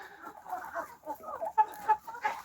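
Hens and roosters, including Orlov roosters and crested hens, cluck and chatter nearby in a steady, lively stream, with a few sharper squawks near the end.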